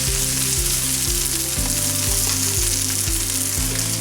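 Lamb and rosemary sausages fry loudly in a pan, a dense continuous sizzle and crackle held close up with no voices, over a faint repeating musical backing.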